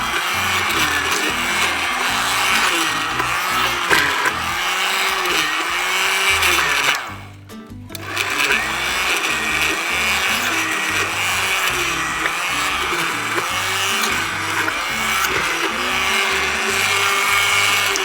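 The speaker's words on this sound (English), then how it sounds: "an immersion blender is so much easier because I can get right in here" Immersion blender loudly whirring through cooked apples to make applesauce, a steady grinding drone that cuts out briefly midway and then resumes for a long stretch.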